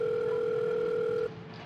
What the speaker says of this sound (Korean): 집 앞에서 수아한테 전화를 걸었습니다.